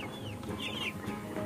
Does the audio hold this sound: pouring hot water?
no